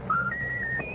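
Raffles, a pet bird, whistles a short tune: a single clear rising then level whistled phrase lasting about a second, faint against a soft background hum.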